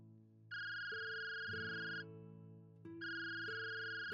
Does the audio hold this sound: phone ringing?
yes